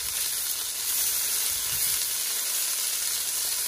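Beef pieces for stew searing in a hot pan make a continuous, even sizzle that stays close and loud throughout, with no voices over it.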